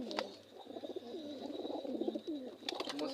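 Pigeons coo in a loft where Chuina and Kaldom pigeons are nesting. Soft, rolling coos repeat steadily and sit close to the listener, over a faint steady background hum.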